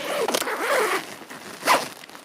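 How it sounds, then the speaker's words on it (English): A zipper on the vestibule of a two-person Big Agnes Fly Creek HV UL tent is pulled in a few quick, close rasping strokes, with a brief final zip near the end. "It's got two zippers"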